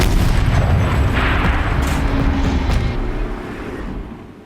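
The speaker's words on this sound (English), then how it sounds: "Rotate turret! And fire!" A heavy turret cannon fires in the video game Horizon Zero Dawn, one loud deep boom that rolls out into a long rumbling decay and fades over several seconds.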